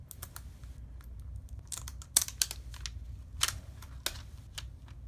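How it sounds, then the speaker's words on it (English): Plastic wrap is peeled off a new LG Q7+ phone, giving scattered close crinkles and sharp crackles in irregular bursts, with no talking. "Okay, so let's just unwrap this piece of plastic."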